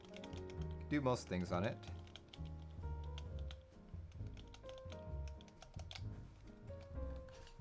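Keystrokes on a Keebio Iris Rev 3 split gaming keyboard build clatter in quick bursts beneath steady, close talking and background music.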